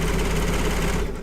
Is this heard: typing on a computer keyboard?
no